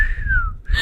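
A person whistles a single sustained note that glides slowly downward, then briefly rises again near the end, close and fairly clear over a low background rumble.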